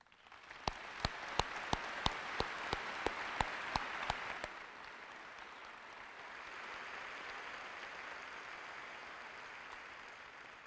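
Audience at a 2017 matriculation welcome ceremony breaks into a round of applause, with sharp rhythmic claps standing out over the crowd for about four seconds before it settles into a softer, sustained patter that fades out.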